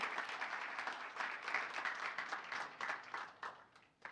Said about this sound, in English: Let's give Mike another round of applause for coming out on a Sunday morning